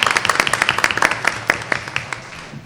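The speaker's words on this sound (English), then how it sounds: "Let's give them a round of applause, please" A round of applause at a board of education meeting, a small audience clapping in distinct, fairly sparse beats that gradually thin out and fade.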